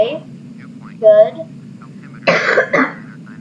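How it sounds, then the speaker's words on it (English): A single person's cough, with a throat-clearing sound early on, heard close during a flight-simulator session, standing out briefly over a steady low hum. "Not the time to cough."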